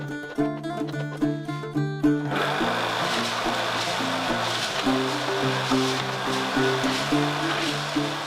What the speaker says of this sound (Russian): Завел себе вот такой голтовочный барабан.